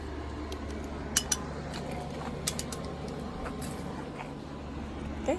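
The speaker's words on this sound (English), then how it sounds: "So now I'm just wrenching it back on. In the bolts" A wrench tightens the bolts on a Jet 3 Ultra motorized wheelchair wheel, making a few light metallic clicks and ratchet taps over a low steady hum.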